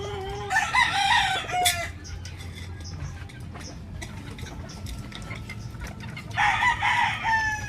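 A gamecock rooster crows loudly close by, then crows again a few seconds later, with clucking and faint clatter between calls.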